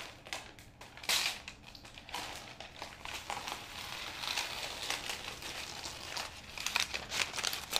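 Freezer paper stencil being peeled up off a freshly painted doormat, giving a close, continuous crinkling and crackling paper rustle with sharper tearing snaps throughout.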